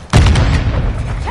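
A thermite grenade going off in the video game Call of Duty Modern Warfare 2: one sudden heavy boom, followed by a sustained loud roaring burn that rumbles on without a break.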